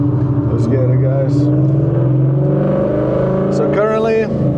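A loud Ford Mustang engine drones in first gear from inside the car, a deep steady rumble that swells slightly as it pulls away, with someone talking over it.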